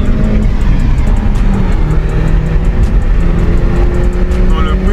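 A car engine drones loudly and close from inside the cabin while driving, a steady rumbling hum with shifting pitch, with people talking over it.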